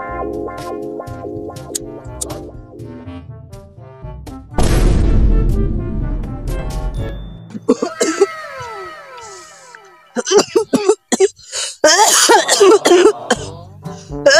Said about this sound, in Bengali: আর বাবু অত কাশিস না